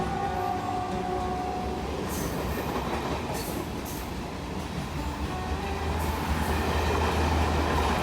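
A train rolls past close by on the railway line next to a temple, a steady loud rumble of wheels and carriages continuing throughout with occasional higher screeching accents.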